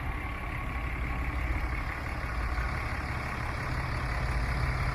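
A 2012 Ram 2500 Mega Cab diesel pickup engine idles steadily and close, a continuous low, even clatter and rumble with no talking.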